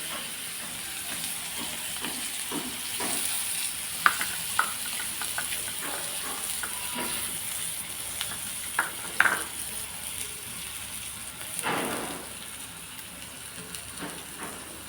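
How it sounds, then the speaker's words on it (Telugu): Chopped onions sizzle and fry in hot oil with turmeric for an Andhra-style bagara baingan masala, a steady close hiss broken by scattered crackles and stirring scrapes, with no talking. "ఒక రెండు ఉల్లిపాయలు తరుగు ఉంది కదండి ఈ తరుగుని నూనెలో వేస్తున్నానండి"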